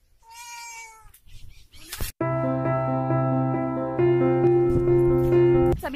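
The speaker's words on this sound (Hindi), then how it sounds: "अरे यहाँ पे बिल्ली है छोटी।" A small cat gives a short high meow, then a long, loud, drawn-out meowing cry follows, close to the microphone, on a farm in a Maharashtra village.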